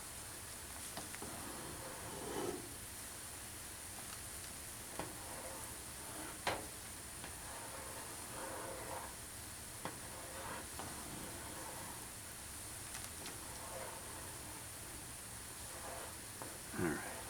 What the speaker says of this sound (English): we're officially back to a boil